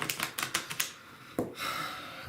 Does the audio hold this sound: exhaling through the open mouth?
no